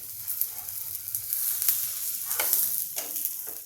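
A diet thalipeeth made from jowar lahi flour, thin poha and puffed rice frying on a pan, a soft, close, steady sizzle with bursts of crackling and light scraping sounds.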